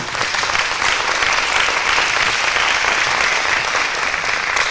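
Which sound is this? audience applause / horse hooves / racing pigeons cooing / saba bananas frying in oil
audience applause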